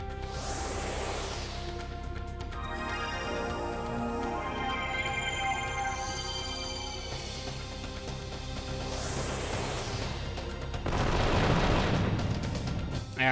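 A video-game Gatling gun fires a dense, continuous roar of rapid shots that holds loud and steady throughout, swelling with heavier bursts near the end; no talking.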